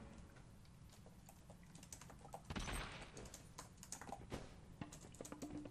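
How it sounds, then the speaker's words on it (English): Rapid typing on a computer keyboard, a steady stream of close, light key clicks with a few heavier taps, continuing without speech throughout. "You guys probably hear me typing"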